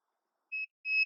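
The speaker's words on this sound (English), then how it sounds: "So my tag light is beeping." A car jump starter pack gives two short electronic beeps, a steady tone and then a slightly longer one, clean and alone in silence, while hooked to a 2000 Toyota Camry with a failing alternator.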